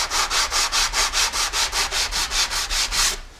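A Stanley hand plane blade is rubbed back and forth along its sides on a sharpening stone, a rhythmic series of about a dozen even, close, raspy strokes with no talk.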